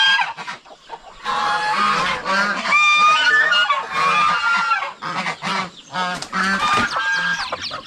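Turkeys calling in a loud, close series of harsh, honking bursts, several birds overlapping with brief gaps between calls.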